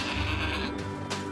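A goat in the video game Trine 4 lets out a single loud, close bleat lasting about a second, wavering and nasal, with no talking over it.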